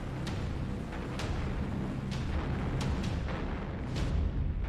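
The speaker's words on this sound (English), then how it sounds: "Zhukov's long-range artillery begins a non-stop assault on Berlin" Long-range artillery bombarding Berlin, heard as a continuous low rumble with repeated distant thuds and sharp cracks spaced every second or so, steady and heavy without any voices.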